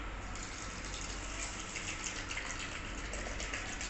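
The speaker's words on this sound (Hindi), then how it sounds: "अब मैं इसके अंदर पानी डाल दूँगी" Water poured into a cup while making aloo bukhara (plum) juice, a steady close splashing gush lasting the whole few seconds, with no talk.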